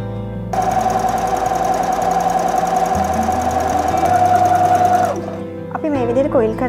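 A Singer domestic sewing machine fitted with a free motion foot, feed dogs lowered, stitches with a steady, close, rapid motor whir for about five seconds, then stops as a person starts talking.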